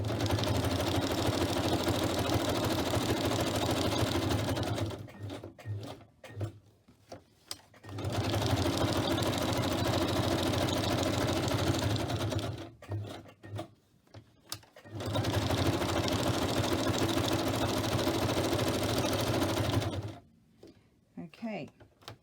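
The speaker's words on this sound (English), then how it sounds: "So I do need my sewing machine back again." A sewing machine stitches fabric in three steady, loud runs of rapid mechanical whirring, each lasting several seconds and separated by brief pauses with small handling clicks.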